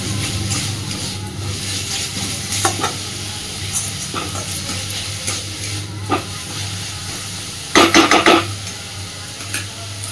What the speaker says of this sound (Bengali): তো দেখুন মূলো কিন্তু পুরোপুরি ভাজা হয়ে গেছে, সুন্দরভাবে তেল ছেড়ে গেছে।